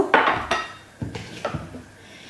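Cutlery and drinking glasses handled for a kindergarten classroom activity, several sharp clinks and clattering knocks in an irregular rhythm, close and fairly loud, with quiet gaps between the bursts.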